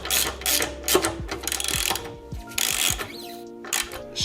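A ratchet wrench torquing the shock absorber bolt on a Harley Sportster: close, loud bursts of rapid metallic clicking, pausing and resuming in several pulls, with no talk.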